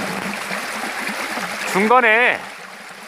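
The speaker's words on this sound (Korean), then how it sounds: "작은 폭포가 나타났어요." Steady rushing water from a small waterfall on Jeju Olle Trail Route 7 fills the background, with a brief spoken word over it near the end.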